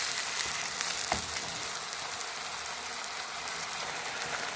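Dill leaves with turmeric and salt frying in a pan give a dense, steady, close sizzle that runs unbroken throughout, with a brief scrape of stirring near the start.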